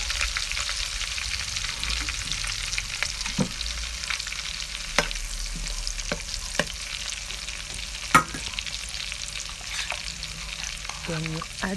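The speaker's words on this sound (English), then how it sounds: "You add in your chopped onion while the oil is still red. And you saute." Chopped onion sautéing in unbleached red palm oil for Nigerian egusi soup: an even, close sizzle with sporadic spoon taps and scrapes against the pot, and a cluster of clinks near the end.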